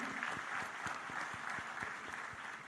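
A crowd at a Jain religious gathering welcomes Home Minister Amit Shah as chief guest with sustained applause, a distinct rhythmic clap beating steadily through the crowd's dense, fairly distant clapping.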